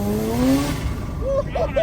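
Rotary-engined Subaru BRZ on a dyno, engine revving hard with a rising note, then a few short squeals from the tires, loud and close over a roaring background, with people speaking.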